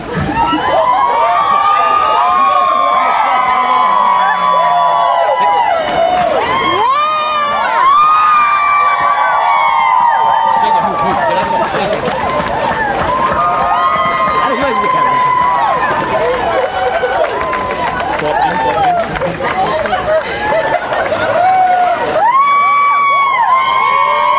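A loud crowd cheers, whoops and shouts right after a karaoke marriage proposal, with excited, high-pitched voices rising and falling throughout and clapping mixed into the steady roar.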